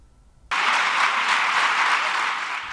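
Steady, loud applause breaks out suddenly and holds evenly as officials seal the amended trade agreement protocol between Mexico, the United States and Canada.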